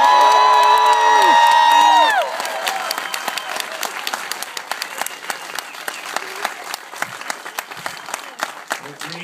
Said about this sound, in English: Let me see if I can get everybody here in Omaha to scream and yell and stuff.